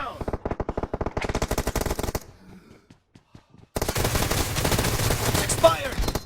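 Unsuppressed Groza rifle fire in the mobile game PUBG Mobile: rapid loud automatic bursts, a short quiet gap with faint clicks, then another long sustained burst of fire.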